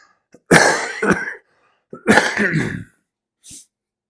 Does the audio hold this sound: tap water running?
no